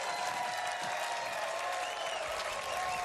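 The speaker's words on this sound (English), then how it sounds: "listen to the crowd" Spring training baseball crowd at a Red Sox versus Twins Grapefruit League game cheering and applauding after a strikeout, a steady dense wash of clapping and cheers throughout, loud and close.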